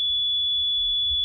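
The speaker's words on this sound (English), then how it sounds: "now you can hear the tone coming from it, a sine" A vintage RCA audio generator puts out a steady, pure sine tone, continuous and clear at one pitch with a faint low hum beneath it.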